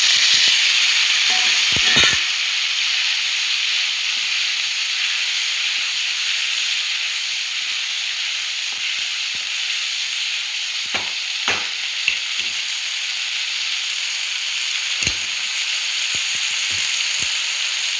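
Native tomatoes hit a pan of cooked onions being fried for rasam, starting a loud, steady frying hiss with occasional sharp pops and spoon clinks throughout.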